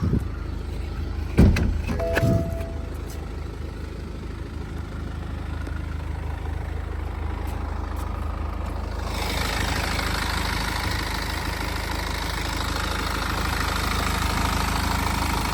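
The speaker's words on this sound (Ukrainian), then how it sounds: "Двигун працює ідеально." A BMW 3 Series 2.0 diesel engine idles steadily under an open bonnet, with a brief clatter near the start and then a continuous low rumble that grows broader and louder halfway through.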